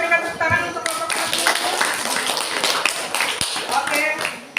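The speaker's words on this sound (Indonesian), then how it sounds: "Kita berikan tepuk tangan untuk kelompok 1." Classroom applause for a student group after their presentation, a dense burst of clapping that fills the whole stretch, with voices mixed in near the start and end.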